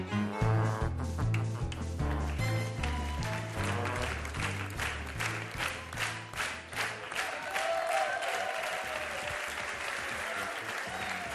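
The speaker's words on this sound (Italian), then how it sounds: "prenditi l'applauso che è sacrosanto" Studio audience on the RAI 2 show Scalo 76 applauds after a song, the clapping swelling over fading music and then continuing as dense, steady, loud applause.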